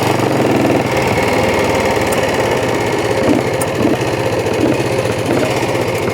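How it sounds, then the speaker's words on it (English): Race motorcycle engine running loud and close, a continuous rough, throbbing roar at steady revs with no talk. "She's a race bike, wants to go fast."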